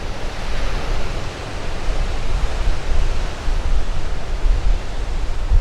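Waves crash against the shore at Makapu'u Beach, Hawaii, throwing up salt spray in a loud, continuous roar with no pauses and wind buffeting close to the microphone.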